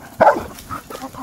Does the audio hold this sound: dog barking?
yes